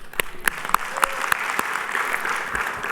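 A conference audience at the ARIN 38 public policy meeting claps for John, newly in charge of a department, as he stands; a full, even round of applause from many people, fairly close, with a few louder individual claps.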